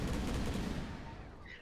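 In the Dota 2 video game, Gyrocopter's Flak Cannon fires a dense, rapid burst of gunfire-like shots that rumbles loudly and continuously before tapering off slightly, with game ambience underneath.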